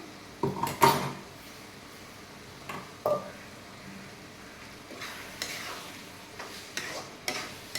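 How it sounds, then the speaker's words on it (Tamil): Ground masala sautéing in a pan, stirred with a few clattering scrapes early on and softer spoon knocks later over a low, steady sizzle, close up with no talking. "நல்லா வதக்கிக்கலாம்."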